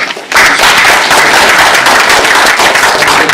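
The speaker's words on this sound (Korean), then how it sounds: "호산나 성가대 귀한 찬양 격려의 박수 한번" Church congregation at a Sunday worship service in Canberra applauding the choir: a dense, loud burst of many hands clapping together that starts abruptly and holds steady.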